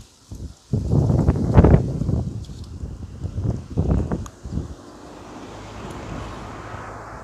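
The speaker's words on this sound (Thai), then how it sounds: "อืมลมค่ะ ลมดีดี นี่ค่ะ" Wind blows through a quiet public park, gusting across the microphone in loud rumbling bursts that fade to a softer steady rush.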